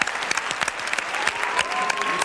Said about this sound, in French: Je pense que vous pouvez applaudir tout de suite Musclor.